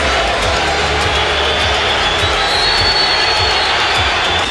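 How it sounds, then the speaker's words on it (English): Dense basketball arena crowd buzzing and murmuring steadily as Larry Bird steps to the free throw line, a loud continuous roar of many voices filling the whole hall. "The buzzing you hear in the crowd is Larry Bird going to the free throw line"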